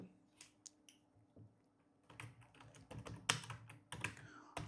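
Quick, light clicks of typing on a computer keyboard, in irregular bursts that grow busier toward the end, close and quiet with no talk.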